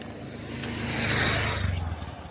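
A vehicle passes along a residential colony road near a railway crossing, its engine swelling from far to close and then fading, a steady low rumble with no voices.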